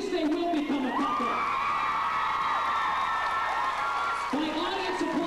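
An audience at a 1998 fan Q&A with actress Rebecca Herbst cheers and applauds, high-pitched screams and whoops rising over steady clapping for several seconds before settling back.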